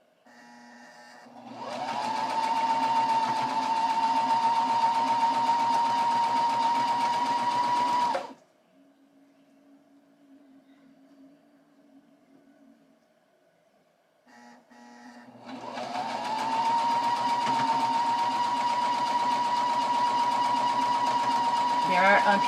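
A sewing machine stitches a large quilt in two sustained runs, a steady mechanical whir broken by a quiet pause while the fabric is adjusted.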